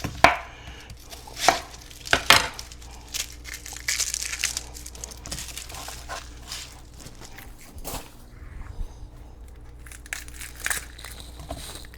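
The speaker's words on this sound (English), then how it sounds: "I like to cut them in half and then julienne them as fine as you can" A knife slices and julienne-cuts a halved onion on a cutting board for quiche Lorraine, making a series of close crunchy chops and crackles at irregular intervals, with quieter handling sounds between bursts and no speech.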